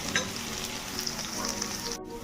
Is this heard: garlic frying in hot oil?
yes